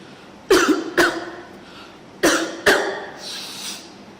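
Four sharp coughs come in two pairs, close and fairly loud, with quiet pauses between the pairs and a soft breathy sound near the end.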